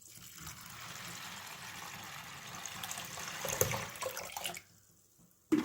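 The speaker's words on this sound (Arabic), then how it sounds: "وهننزل بقى بالمية عليه" Water poured from a tap or jug over half a kilo of cleaned, washed hulled wheat in a cooking pot, a steady splashing fill that stops near the end.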